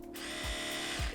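A steady high-pitched electric whine of an Oral-B Vitality electric toothbrush motor running continuously, up to 65 decibels, with a couple of low thumps underneath.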